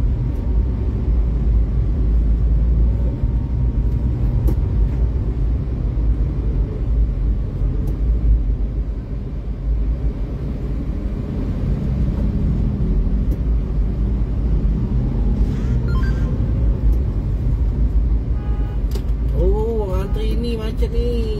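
A Palembang street jammed with diesel vehicles, heavy engine rumble and traffic drone running steadily throughout, with a horn-like tone rising near the end and voices faintly in the background.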